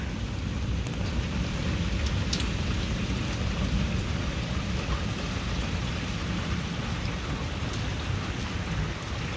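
Steady heavy rain pours throughout a thunderstorm, a dense, unbroken hiss of drops on surfaces nearby, with faint distant rumbles underneath and no voices.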